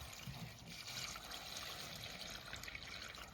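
Water poured steadily over a child's toy tractor at a pretend farm-machinery wash, making a continuous splashing trickle that stays close and even throughout.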